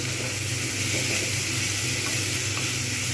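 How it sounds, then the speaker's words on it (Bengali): Spices sautéing in a pan for rohu fish head mung dal, a dense steady hiss of frying with a low rumble beneath, close and unbroken. "ভালোভাবে কষাবো আজ কিন্তু মিডিয়াম থাকবে"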